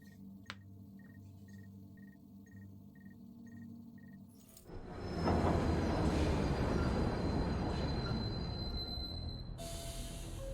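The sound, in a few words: train running on rails in a video game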